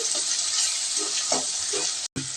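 Onion and tomato with salt stewing in a pan for a village-style okra curry, a loud, close sizzle with soft stirring scrapes, cutting out briefly just before the end.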